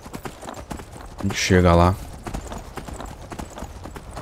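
In Skyrim, a horse's hooves clip-clop in a steady, close rhythm while it is ridden, with a short, loud whinny partway through and a person talking over the hoofbeats.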